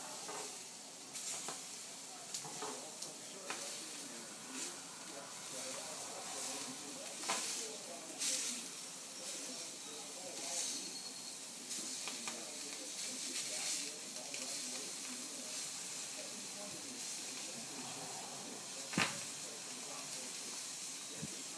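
Scallops sizzling in a hot pan, a continuous bright hiss and crackle with scattered pops and spatters, steady throughout at moderate loudness with a louder pop near the end.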